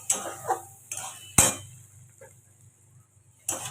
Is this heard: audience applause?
no